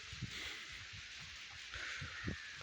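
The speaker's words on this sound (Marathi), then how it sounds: "एकदम बारीक झिमझिम झिमझिम चालू आहे." Fine, light drizzle falling steadily over a farm with fields and chickens, a soft continuous hiss with a few faint low patters, heard alone without talk.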